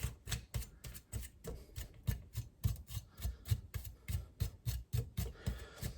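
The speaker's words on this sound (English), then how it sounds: "I'm just going to scrape away this stuff here." A baked pumpkin having residue scraped off, heard as a steady run of close, rhythmic rasping strokes, each short and brisk with brief pauses between.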